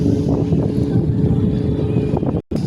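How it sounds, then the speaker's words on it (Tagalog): Strong, steady wind roars and buffets the microphone, a loud continuous rush that cuts out abruptly near the end. "Sobrang lakas kasi ng hangin mga idol."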